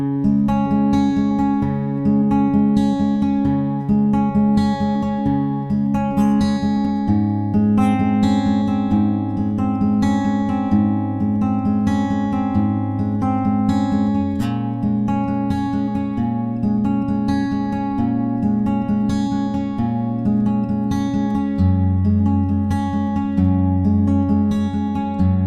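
Acoustic guitar fingerpicking the opening line of a song, arpeggiated chord shapes ringing in a steady repeating picking pattern, clear and close, with no talking.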